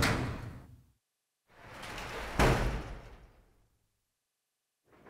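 Door in the video game Resident Evil Zero opening, a heavy creaking swing with a solid thud partway through, then a near-silent pause before another sound starts at the end.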